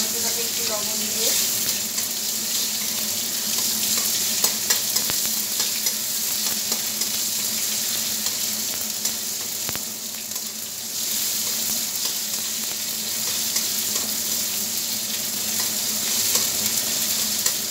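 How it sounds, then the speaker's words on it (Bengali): Tomatoes with salt frying in a pan, cooked while preparing a pomfret curry, give a dense, constant sizzle with occasional stirring scrapes, close and steady for the whole stretch. "একটু লবণ দিয়ে টমেটোটা ভাজলে টমেটো তাড়াতাড়ি সেদ্ধ হয়ে যাবে"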